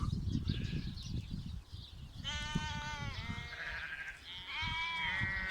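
Zwartbles ewes and lambs bleat repeatedly out at pasture, several overlapping calls near and far, over a rumbling outdoor background.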